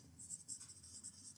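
Pen scratching on paper while solving a maths problem on cube measurements, soft repeated strokes in short bursts, faint and close, with no one speaking.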